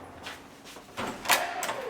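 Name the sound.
knocking on a hotel room door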